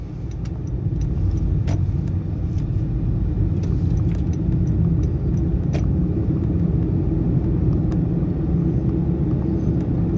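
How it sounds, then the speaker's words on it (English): Steady, loud low rumble of tires rolling on pavement heard from inside a moving 2019 Honda Jazz, with a few faint rattles and clicks over the constant drone. "The tire noise is significantly louder than the Yaris"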